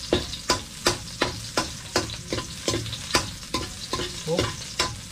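Chopped onion stirred and frying in a pan until golden brown, a steady sizzle broken by sharp regular scrapes of a spatula roughly every half second, close and fairly loud with no talking.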